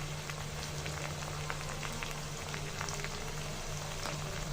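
Spice paste of ginger, garlic and cumin, with turmeric and chili powder added, frying in a pan for a chicken gizzard bhuna, giving a steady dense sizzle with small crackling pops and a constant low hum throughout.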